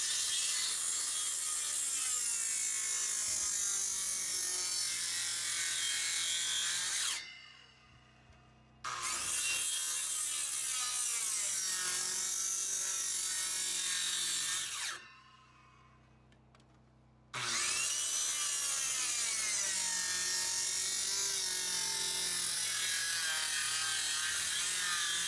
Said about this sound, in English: so I'll show you how we cut one, but I'm not real proud of the way we have to force the saw